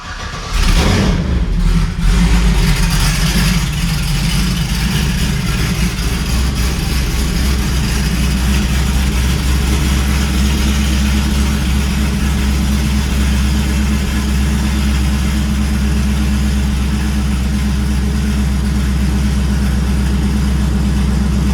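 Car engine with open exhaust cranking and catching, then settling into a loud, steady, rumbling idle that runs on without a break.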